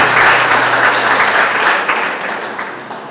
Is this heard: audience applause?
yes